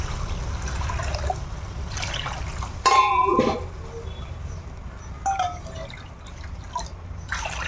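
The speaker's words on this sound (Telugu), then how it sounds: "రవ్వ ఎంత తీసుకున్నాను అంతే వాటర్ వేస్తున్నాను" Water is poured into a pan for making carrot upma with semolina, giving trickling and dripping sounds broken by a few light clinks of utensils, close and moderately loud.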